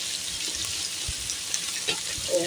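Food fries on a hot Thai mookata grill pan with a bright, crackling sizzle, and scattered pops and spatters stand out from the steady hiss.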